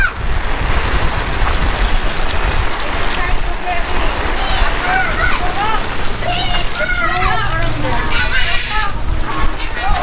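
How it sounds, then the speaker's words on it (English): Heavy tropical rain falling on a street in Naga City, Philippines, a loud dense hiss and patter throughout, with people talking and calls nearby. "It's only a bit of rain."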